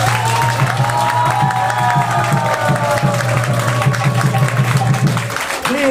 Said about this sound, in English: Please, please, please give a big round of applause for her.